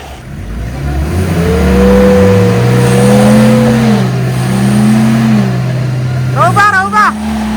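An off-road vehicle engine revs hard under throttle in a forest, its drone rising and holding loud and close, with people shouting over it and a brief high squeal near the end.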